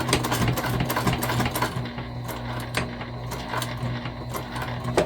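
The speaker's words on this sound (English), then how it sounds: "I just like to do this second row of stitching just as a, basically like a precautionary measure." A sewing machine runs continuously, stitching a second reinforcing row on a tote bag, with a fast, even mechanical chatter and a steady motor hum close by throughout.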